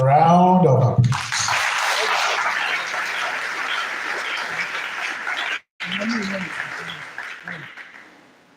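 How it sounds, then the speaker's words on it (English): An audience in a hall at a youth development symposium breaks into sustained applause after a short spoken introduction, clapping steadily for several seconds with a brief cut partway through and then tapering off. "May we give our speakers another round of applause."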